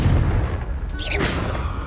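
A Confringo fire spell explodes in the Hogwarts Legacy game as a dense, loud blast with a crackling, whooshing tail, set against constant low rumbling game ambience.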